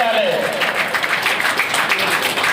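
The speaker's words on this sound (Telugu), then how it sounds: "గట్టిగా చప్పట్లు కొట్టాలి." Applause from an audience at a Greater Hyderabad RTC zone retirement ceremony, a dense, steady wash of many hands clapping close by for the whole stretch, with a voice briefly heard over it at the start.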